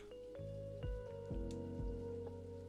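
Steady rain falls outside a bar in the video game Necrobarista, a soft continuous patter layered with low musical tones and a few dull thuds, with no talking.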